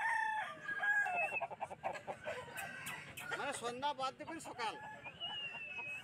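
A tall rooster weighing nearly 4 kg crows and clucks at a village chicken market, Feko Haat in Jhargram district, West Bengal, close and loud over steady market bustle while people talk nearby.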